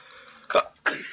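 A sharp, close sneeze bursts out in a single loud burst, with a second breathy sound right after it over faint background noise.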